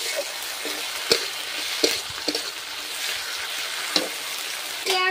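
Garlic and ginger paste hitting hot oil with lightly fried onions for a homestyle chicken kosha curry, a steady close sizzle punctuated by a few sharp stirring clacks of the spoon against the pan.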